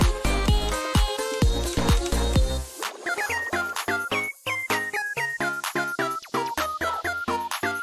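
Bright, chiptune-style chirping notes from a video game, quick tinkling pitch glides repeating in a rapid melodic pattern after a busier musical opening.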